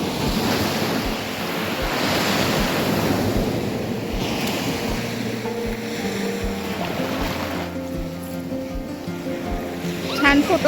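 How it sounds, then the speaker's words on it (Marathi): Big ocean waves breaking on a Konkan beach, a loud continuous roar of surf with gusts of wind buffeting the microphone, a louder surge near the end. "आता मोठ्या लाटा यायला लागल्या."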